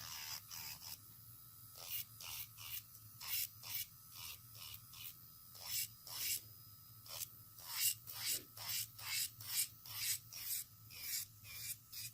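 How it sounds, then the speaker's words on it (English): A flathead ceramic bit on an electric nail drill buffs and cleans the edges of a nail, giving a close, quiet rasping whir in short repeated strokes. The strokes speed into a steady rhythmic series toward the end. "after I'm done buffing it, making it smooth, I'm also gonna use my flathead ceramic bit just so I can clean the edges of my nail"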